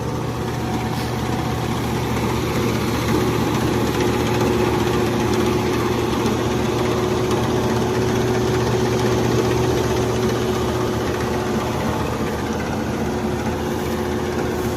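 A Massey Ferguson 9500 tractor engine runs steadily at idle, a continuous loud diesel rumble and hum with no breaks, close by.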